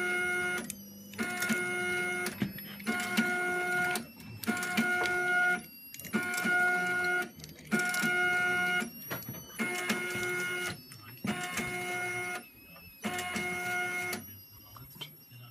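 A Zebra ZE500 printer working with a LAB400 labeler runs in regular mechanical cycles while applying self-adhesive labels onto SD cards, each whirring, clicking burst followed by a short pause, repeated about ten times.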